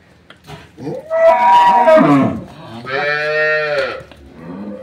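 A cow just let out of its shed on a dairy farm gives two loud, close moos, a long rising call and then a second drawn-out low, with a short quiet gap between them.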